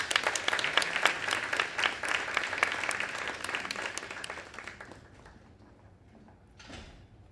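An audience claps for a graduate at an annual graduates' gala, brisk applause that fades out after about five seconds, followed by quiet and a brief soft noise near the end.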